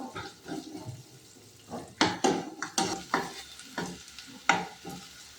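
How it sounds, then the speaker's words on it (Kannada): Two chopped onions frying in a pan for a fenugreek-leaf dish, with several sharp stirring scrapes and bursts of sizzle rising and falling close by, no talk. "ಈರುಳ್ಳಿ, ಅದನ್ನು ಚೆನ್ನಾಗಿ ಫ್ರೈ ಮಾಡ್ಕೋಬೇಕು."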